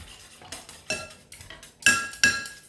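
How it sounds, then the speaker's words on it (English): A whisk strikes the side of a mixing bowl of banana pancake batter, six sharp metallic clinks in an uneven rhythm with soft swishing between them, close and alone. "when we whisk, we're going to hit the side of the bowl there like that"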